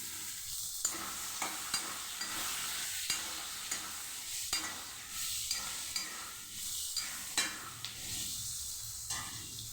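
Potato pieces fry and get stirred in a pan with already-fried onion, ginger and garlic, a steady close sizzle broken by repeated scraping stirs at an uneven rhythm, with no voices.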